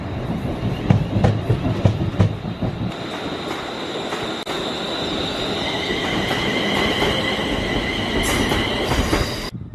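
A train on the Caledonian Railway line runs at Queen's Park station in Glasgow, loud and close, with rumbling wheels, clattering over rail joints and high squealing tones as it moves along the platform.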